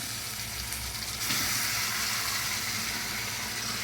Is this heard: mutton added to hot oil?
yes